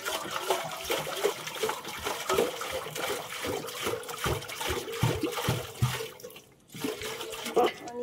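Water poured from a storage drum splashes and gushes steadily during washing, a continuous close wash of liquid with irregular splatters and a brief pause near the end.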